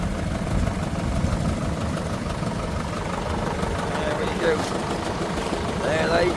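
Mini tractors of all shapes and sizes running together on a tractor run around Holkham Hall, a continuous low idling and chugging engine rumble, with someone talking over it.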